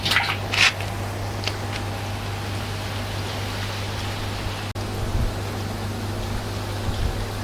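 Water runs from a tap in an outdoor tilapia fish-pond setup, a steady hiss with a few splashy drips near the start, fairly close and heard alone.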